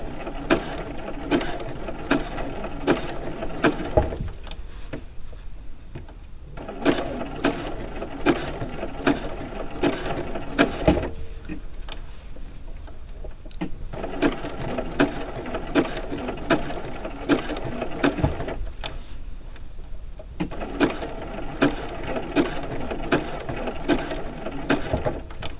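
A sewing machine stitches fabric in bursts of steady mechanical whirring and clatter, several runs of a few seconds each separated by short pauses, close and moderately loud.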